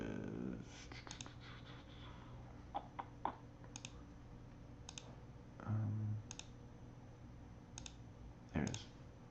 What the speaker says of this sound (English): Click once to start it, click again to stop it.